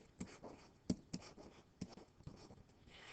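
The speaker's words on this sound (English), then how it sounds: "So let's write down the formula for area." A pen or marker writing out a formula during a geometry lesson, with a series of soft, irregular taps and scratching strokes, close and quiet, with no talking.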